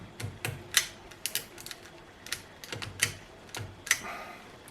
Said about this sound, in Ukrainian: Пробуємо з мінімальним натягом, взагалі таким лайтовим. Все щолкає.